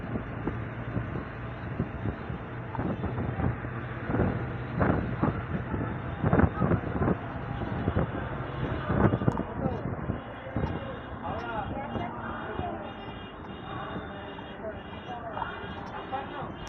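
Inside a moving bus, a constant low engine drone and road rumble carry on for the whole stretch, with a voice speaking over the steady noise.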